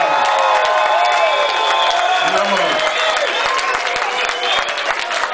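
Audience at a reggae concert at Melkweg, Amsterdam applauding and cheering for the keyboard player, a dense, steady wash of clapping with whoops and shouted voices throughout.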